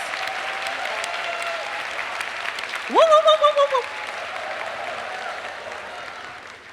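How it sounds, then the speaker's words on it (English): A crowd at a morning business session applauds the candidates with steady clapping throughout, and loud whooping cheers rise in the middle of the clapping. "So let's give all of our candidates a big round of applause."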